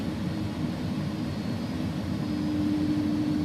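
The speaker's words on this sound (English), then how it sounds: "this, by the way, sounds like an Airbus. If you fly on Airbus, you'll hear the same engine sounds exactly." Airbus A300-600R engines idling and rolling at taxi power in the X-Plane 11 flight simulator, a steady low rumble with a smooth whine rising slightly toward the end, continuous and close, with no talking.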